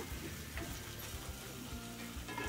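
Vegetables with ginger-garlic paste, tomato and pav bhaji spices for a one-pot veggie masala rice sizzle and fry steadily in a pot, with faint stirring scrapes, quiet and continuous with no talking.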